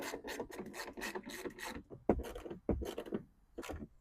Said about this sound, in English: you're going to take your 4 10mm, the ones with the washers on them,